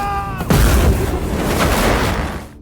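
A loud explosion in a movie battle scene with a fire dragon and fighter jets, a sharp blast followed by a heavy rumbling roar that fades over a couple of seconds.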